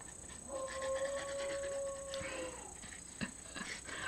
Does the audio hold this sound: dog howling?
yes